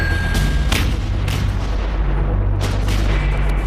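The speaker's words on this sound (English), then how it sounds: "Their mission today is to learn how to position, load, and fire the M777." Marines firing an M777 howitzer, several sharp, loud artillery booms in quick, irregular succession, each with a short rumbling tail, with no talking.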